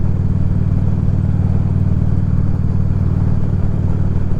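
Motorcycle ridden on a cold day, its engine droning steadily and loudly with a continuous low rumble and wind, no talk.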